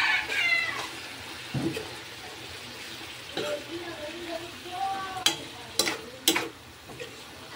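Ground meat browning in a pan, a quiet continuous sizzle under a voice talking, with a few sharp utensil clicks toward the end.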